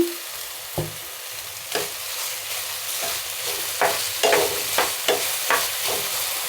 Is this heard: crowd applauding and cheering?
no